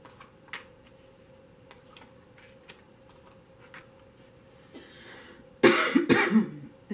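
After soft clicking and ticking, a close, loud cough bursts out twice near the end.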